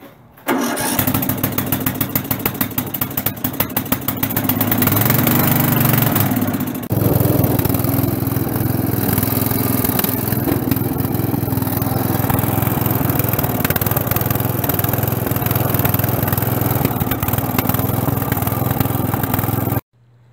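A Craftsman lawn tractor with a swapped engine starts, then runs steadily at a loud, close, throbbing idle for nearly twenty seconds before cutting off.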